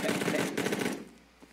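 A rapid burst of automatic gunfire in the VR shooter Ghosts of Tabor, loud and close, then a short quieter tail.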